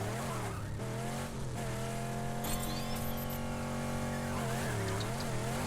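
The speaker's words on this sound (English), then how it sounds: "this one utilizes my favorite engine sound" Engine of a custom super-car in the racing game Lego 2K Drive, a steady high revving drone with rising pitch sweeps and brief tyre squeal, loud and continuous throughout with no talk.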